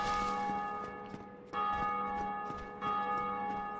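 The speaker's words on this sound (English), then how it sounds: "Can we not ring the bells of awakening?" The bells of awakening in Dark Souls 2 ring loudly in a game, with three sustained metallic tolls struck about every one and a half seconds, each chime ringing on and overlapping the next.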